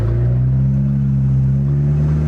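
Audi A4 B8 with a Stage 2 tune pulling onto a highway on-ramp, a loud steady low engine drone with strong harmonics, close and continuous with no talk.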